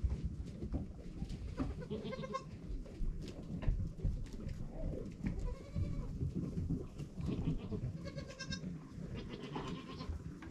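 Domestic goats and their newborn kids, many of them twins, bleat repeatedly on a farm, with several overlapping calls standing out over a steady background of shuffling and rustling.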